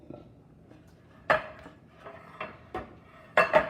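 A big scooper scraping and knocking against a bowl while scooping gluten-free muffin batter, several close, irregular clacks and scrapes with quiet gaps between them.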